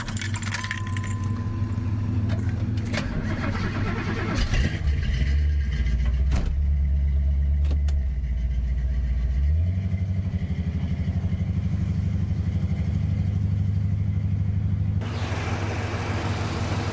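A 1968 Buick Electra 225 V8 fitted with EFI runs steadily and loud up close, a low droning idle that steps up in pitch partway through and holds, with some clattering and metallic rattles near the start and no talking.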